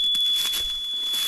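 A farm drainage tile locator wand emits a steady high electronic beep continuously, with a few soft clicks and handling noises underneath.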